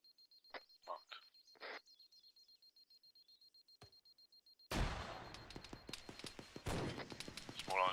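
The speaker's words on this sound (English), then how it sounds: "Small arms fire to the east" Small arms gunfire in the Arma 3 military shooter, beginning with a few sparse sharp shots and a steady tone, then erupting into a dense, loud rattle of rapid overlapping bursts.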